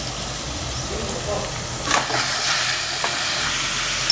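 Tomatoes sauté in a pan with dried anchovy masala, producing a close, steady sizzle with a few stirring scrapes, while someone talks over it.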